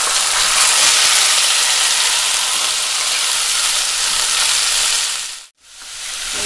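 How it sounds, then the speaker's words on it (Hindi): Boneless chicken and garlic fry in oil in a non-stick-free home pan, a loud, dense, continuous sizzle that briefly cuts out near the end before resuming. "लहसुन के साथ ही मैंने चिकन भी डाल दिया।"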